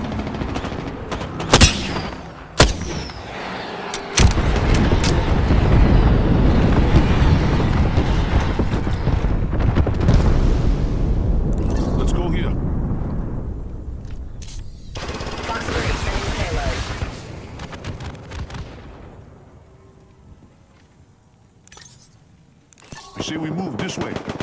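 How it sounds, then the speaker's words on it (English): Airstrike explosions in the Apex Legends video game land in a loud, sustained barrage of booms and rumbling blasts, with sharp gunfire cracks before and after and game audio mixed throughout. "Signaling an airstrike."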